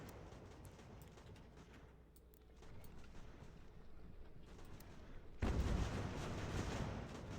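Artillery fire in the Ultimate General: American Revolution battle game, faint distant booms and rumble under ambient battlefield noise, swelling to a louder sustained roar near the end, with no talk.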